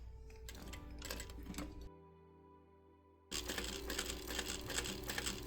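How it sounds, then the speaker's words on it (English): A sewing machine back-tacks and stitches a seam on a Shamballa bag, giving quiet mechanical rattling bursts that pause briefly and then resume in a steady, louder run. "I'm just going to go ahead and back tack a couple times here."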